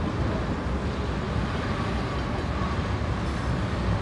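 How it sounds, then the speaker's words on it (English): A train rumbles steadily past close by in downtown Pittsburgh, a continuous low roar of wheels on rails with no pauses, loud throughout. "Here's the end of the train right there."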